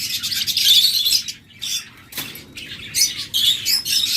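Lovebirds chirp and tweet in a busy bird shop, a dense overlapping chatter of high calls that is loud and near, with a short lull in the middle before the chirping picks up again.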